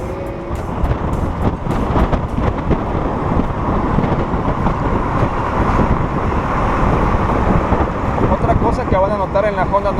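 A Honda Navi motorcycle rides along at speed with a steady engine drone. The engine note sits under constant wind rush and road noise, loud and close throughout, and stays even without a clear rise in pitch.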